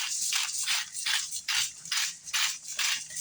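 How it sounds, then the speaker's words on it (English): A spice grinder cranks out a mix of sea salt, garlic and red pepper flakes, giving a run of about eight quick, rhythmic gritty rasps close up, with no talking. "My spicy garlic grinder."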